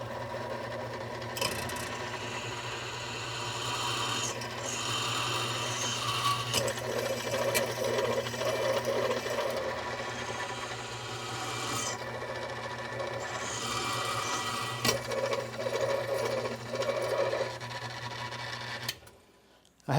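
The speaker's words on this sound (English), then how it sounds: "we'll be using the Toolcraft drill press today to drill that really accurate 3/16 inch hole" A Toolcraft drill press motor hums steadily while the bit grinds a 3/16-inch hole in a knife in intermittent rasping bursts, then the machine cuts off.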